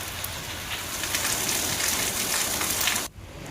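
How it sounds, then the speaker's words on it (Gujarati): Light rain falls steadily over the town of Radhanpur in Patan, a dense, even hiss of drops on surfaces that drops away abruptly near the end. "ધીમી ધારે વરસાદ વરસ્યો"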